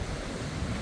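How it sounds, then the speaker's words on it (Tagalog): Loud, continuous wind roar at the seashore buffets the microphone, a broad rushing noise with no breaks and no voices. "kaya lang sobrang lakas ng hangin"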